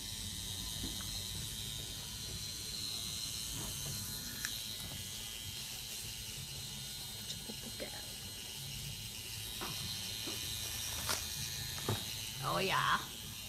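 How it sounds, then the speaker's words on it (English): A Bishop Magi rotary tattoo machine runs steadily throughout in a tattoo studio, giving a continuous soft mechanical buzz and whir at low level, with faint voices and a few light clicks near the end. "it's a Bishop Magi rotary. Super cool little machines."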